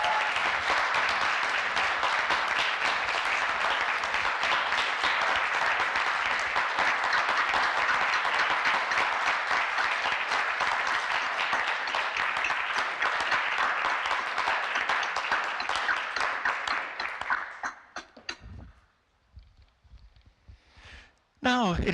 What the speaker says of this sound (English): And this is a second round of applause for you